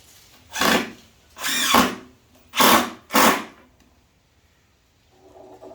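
A power drill drives screws while a wagon is being restored, whirring in four short, loud bursts close up, the last two quickly back to back, followed by quiet.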